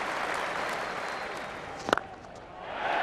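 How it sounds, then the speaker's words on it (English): Crowd at an England versus Australia Ashes Test cricket ground cheers and applauds after a boundary, a broad steady roar with a sharp louder burst near the middle before settling. "Big cheer goes up all around this ground."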